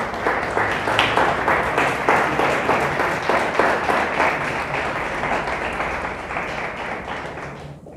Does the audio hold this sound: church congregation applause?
yes